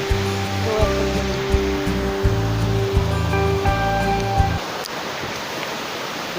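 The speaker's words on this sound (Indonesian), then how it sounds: "Kita udah sampai di air terjun Waikalam." The Way Kalam waterfall in South Lampung rushes as a continuous broad roar. Loud steady tones sit over it for the first few seconds, then the water noise continues alone.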